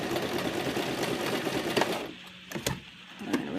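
A sewing machine stitches steadily in a fast, even whir, then drops to a few short bursts as it backs up to lock a reverse stitch at the end of a fabric sensory maze cuff seam.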